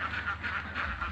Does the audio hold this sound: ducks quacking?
yes